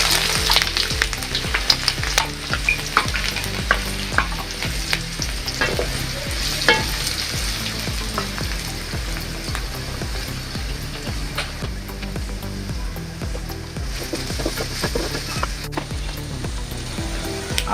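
Chopped onion and green chilies fry in hot oil in a pan, a loud, continuous sizzle with frequent stirring scrapes, close up and with no talking.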